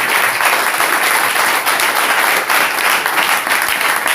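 Church congregation applauding together during a French sermon, loud, dense and continuous clapping filling the room.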